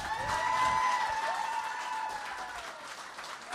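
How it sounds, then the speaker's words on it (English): Live audience applause at a podcast recording, a dense burst of clapping that gradually thins out, with a faint tonal whistle or feedback ringing through it. "Start clapping for my co-host"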